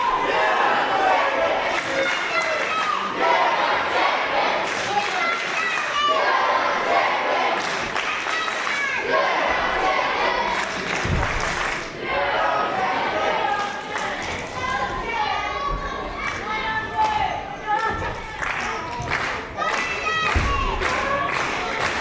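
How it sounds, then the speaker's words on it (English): Crowd at a PWR Pro wrestling show cheering and clapping in bursts, with thuds from the ring and commentators talking over the noise. "Crowd keen to get this one really going now."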